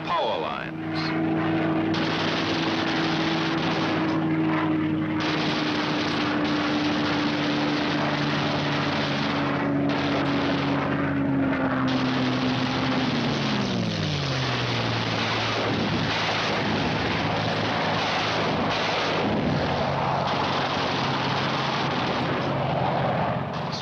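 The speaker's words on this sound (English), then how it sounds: "Skimming along at maximum speed, the fighters pair off and go to work" Fighter planes flying low at maximum speed on strafing runs give a sustained loud engine roar with a droning tone that drops in pitch as they pass. Rumbling explosion-like noise and a narrating voice run underneath.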